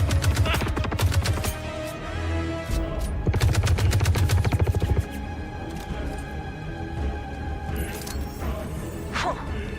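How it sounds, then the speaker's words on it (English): Rapid bursts of automatic gunfire and explosive grenade blasts from the video game Star Citizen, loud and dense, with two heavy volleys early on and scattered shots continuing beneath the action. "And the grenades work."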